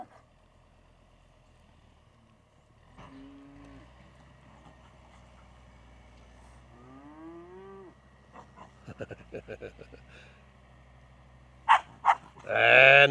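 A young ranch cow dog gives a few whines and yelps, then two sharp barks and a louder bark at the end, over a quiet background.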